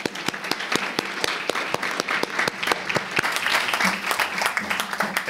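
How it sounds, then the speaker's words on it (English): Applause from the audience at a school board meeting honoring two campuses, loud and steady with sharp individual claps standing out close by, continuing without pause throughout. "one more final applause for both those campuses"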